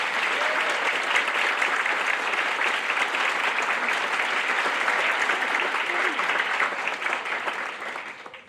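Sustained applause from a large crowd, steady dense clapping throughout that begins to taper off at the very end.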